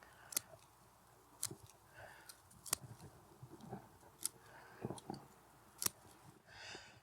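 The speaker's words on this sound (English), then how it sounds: "We cut most of this growth off." Pruning shears snip growth off a Japanese niwaki cloud-pruned topiary tree, sharp, irregular close cuts spaced a second or so apart with rustling foliage between them.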